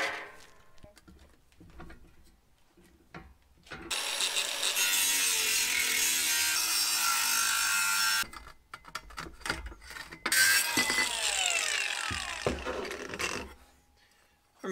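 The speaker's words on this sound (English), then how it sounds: "So I'm going to have to chop those down, which is great because it means I get a bunch of scrap aluminum." Aluminum cargo side rails sawn into scrap: bursts of harsh, rasping cutting lasting several seconds, separated by pauses with quiet handling clicks and scrapes, fairly close and loud.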